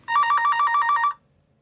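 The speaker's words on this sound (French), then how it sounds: "une sonnerie se fit entendre." A telephone rings once in a loud, rapid electronic trill lasting about a second, alone and close, then cuts off into silence.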